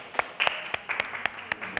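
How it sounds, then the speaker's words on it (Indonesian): A small classroom group of students claps for a fellow student group, a thin scattering of sharp, uneven hand claps about every quarter second, fairly close with no talking. "kita beri tepuk tangan untuk kelompoknya Rizky."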